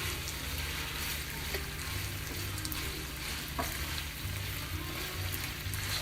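Spinach pasta with garlic and oil sautéing in a pan, a steady close sizzle and crackle running throughout with occasional stirring scrapes and clinks, no voices.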